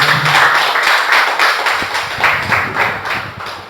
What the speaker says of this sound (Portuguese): Dê mais um aplauso ao Senhor Jesus.